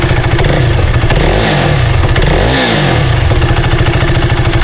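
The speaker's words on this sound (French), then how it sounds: "Le son est très KTM, hein, donc c'est un monocylindre." KTM Duke 390 single-cylinder motorcycle engine revving loudly up close, a dull, throbbing thump with two quick blips of the throttle over a steady idle.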